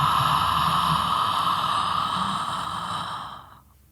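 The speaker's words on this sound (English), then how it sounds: "Let's take a deep cleansing breath in." A deep cleansing breath during a calm guided reflection: a long, close, airy exhale that slowly fades to quiet at the end.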